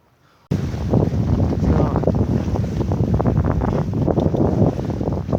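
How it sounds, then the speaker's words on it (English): Strong wind buffeting the microphone on open water in Puget Sound, a loud continuous roaring rush starting abruptly and holding steady. "And picking up a fair amount of wind."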